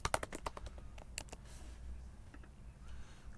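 Quick bursts of typing on a computer keyboard, crisp close key clicks clustered in the first second and a half, then a few sparse taps over a quiet background.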